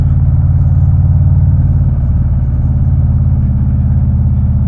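Harley-Davidson CVO Street Glide motorcycle cruising on a back road in third and fourth gear under 3,000 RPM, a loud, steady, deep rumbling exhaust note with an even throb that continues throughout.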